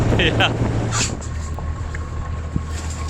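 A speedboat cruises across the Gulf of Finland toward a harbor, its engine a steady, loud drone under constant rushing wind that buffets the microphone.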